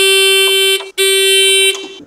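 A machine beeps loudly and piercingly right after its key is turned, giving two long, steady electronic tones close by, separated by a short break.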